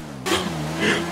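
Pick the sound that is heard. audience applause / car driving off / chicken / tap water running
car driving off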